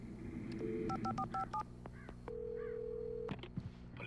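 Telephone keypad tones sound in the video game Alan Wake, a quick series of dialing beeps followed by a long steady ringing tone, quiet and heard without any talk.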